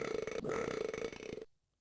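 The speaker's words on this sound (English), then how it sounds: "The belching sounds." A long, gurgling belch from the Sega Genesis game Boogerman rumbles for over a second with a wobbling, croaky pulse, then cuts off into silence.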